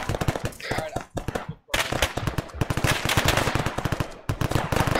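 Rapid machine gun bursts in Arma 3 rattle through the whole stretch, loud and dense, with a short gap partway before the automatic fire resumes, mixed with scattered gunshots and faint voices.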